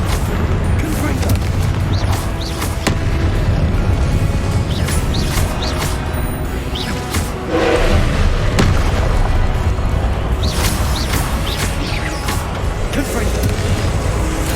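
Repeated Confringo fiery blast spells in Hogwarts Legacy go off as a string of deep, booming explosions, several loud bursts spaced through a continuous combat din, one especially heavy blast midway, with voices heard at times underneath.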